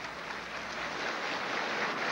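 Steady, dense applause fills a large legislative chamber as the presidents of the Constituent Assembly and the Senate arrive to take their seats at the head table. The sound is even and sustained throughout, with no voices heard.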